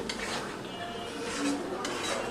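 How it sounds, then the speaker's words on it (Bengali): Six eggs being stirred in a pan for an egg and potato curry: a brief, faint run of soft scraping and light utensil clinks, with no voices. "ডিমগুলো এখন আমি নেড়ে দেব"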